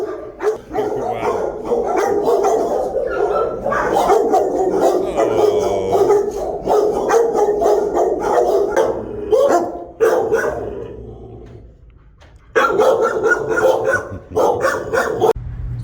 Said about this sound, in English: The amount of dogs and the amount of barking.